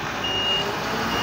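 Ampliroll hook-lift truck working beside a Grand Nancy skip container: a steady engine rumble runs throughout while a continuous high reversing beep sounds over it, close and fairly loud.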